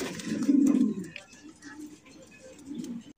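Fancy pigeons kept for sale coo nearby, with one loud, throaty rolling coo early and softer coos that follow, alongside background voices.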